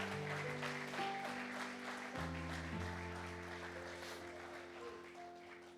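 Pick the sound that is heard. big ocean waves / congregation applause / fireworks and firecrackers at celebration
congregation applause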